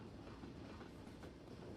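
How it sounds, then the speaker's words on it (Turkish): A train rumbles past in the video game CS:GO on a co-op community map, a faint, steady rolling rumble with soft rhythmic wheel clatter, heard alone. "Tren içinden geçti."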